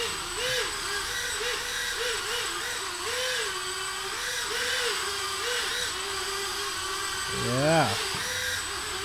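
Mirarobot GV160 EPP RC hovercraft motor at full throttle while drifting, a high whirring buzz that wavers up and down in pitch and swells briefly near the end, with someone talking over it.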